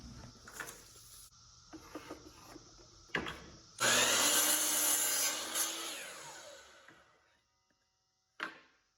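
A table saw rips wood pieces into strips for drawer sides. A few light knocks and handling noises come first, then a loud, steady whining cut that runs for about three seconds and fades as the blade spins down, followed by a final clunk.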